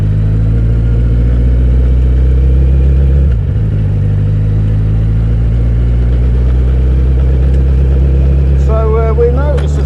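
Kawasaki Z1000 motorcycle engine droning steadily while riding slowly off road, a low continuous rumble throughout with a brief dip midway, close and loud, with some speech-like sounds over it.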